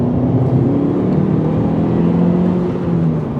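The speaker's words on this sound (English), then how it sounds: "just up a big hill like this in second gear, you put your foot down," Mitsubishi Colt Ralliart pulling uphill in second gear under full throttle, a steady, close engine drone that climbs gradually as it accelerates, heard from inside the car with no talking.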